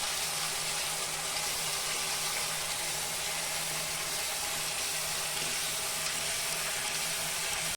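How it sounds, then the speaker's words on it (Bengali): Masala frying in oil in a pan for a chicken roast, a steady broadband sizzle and crackle that holds evenly throughout, close and continuous with no talk. "এখন আমি মশলাটা খুব ভালো করে ভেজে নেব। যতক্ষণ তেল না বেরোবে আমি ততক্ষণ ভেজে নেব।"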